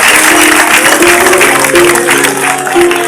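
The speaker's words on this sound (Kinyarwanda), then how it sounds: "Kugira ngo mumere amashyi menshi abo bakobwa uko ari babiri." Audience applause for two girls at a school poetry event: loud, dense clapping from a crowd, sustained throughout with a tonal hum and some voices underneath.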